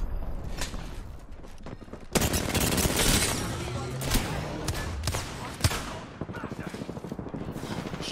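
Close, rapid bursts of automatic gunfire from an Apex Legends ranked match crackle in quick succession, with sharp cracks and rattling volleys over busy game noise.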